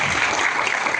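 Loud, dense applause fills a school ceremony as an audience claps for students who earned top exam results, a continuous burst of many hands with no pause.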